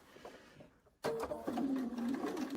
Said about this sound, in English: we're going to go right over to the sewing machine and sew the whole strip in